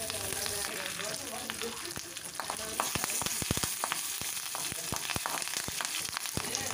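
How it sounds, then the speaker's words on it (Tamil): Dried red chillies and curry leaves sizzle and crackle in hot oil as a tempering for coconut chutney, with a steady frying hiss and sharp pops throughout, close and fairly loud. "இப்போது கிள்ளி வச்சுருக்க 2 காஞ்ச மிளகாய் 1 கொத்து கருவேப்பிலை சேர்த்து நல்லா வதக்கி விட்டுக்கலாம்."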